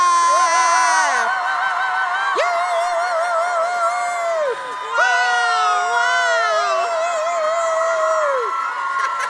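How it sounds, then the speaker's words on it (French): A live theatre audience at a performance cheers and whoops loudly, with high-pitched shouts and rising and falling screams layered over one another; any clapping is buried under the vocal excitement. "commencez à faire des petits applaudissements, et puis grandissez à mesure que je dis les noms"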